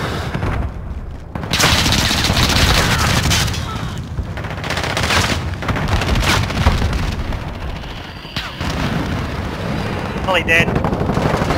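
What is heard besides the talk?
gunfire in Call of Duty video game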